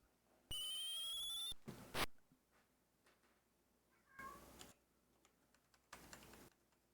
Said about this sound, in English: That's my cat protesting getting kicked off the desk.